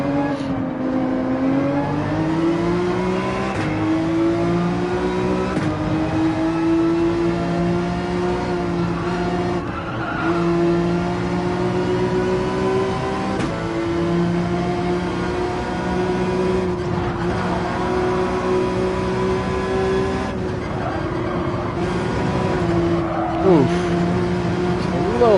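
Race car engines in Gran Turismo 7 drone steadily and close at the Maggiore circuit, with sustained revving tones rising and shifting through gear changes. A faint tire squeal or brief skid is heard near the end, and a voice talks in the background.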